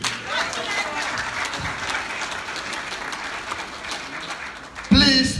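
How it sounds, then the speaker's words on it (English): Audience at a Houston town hall meeting applauding steadily, a broad wash of many hands clapping at moderate loudness, with voices rising over it near the end. "A big round of applause, please."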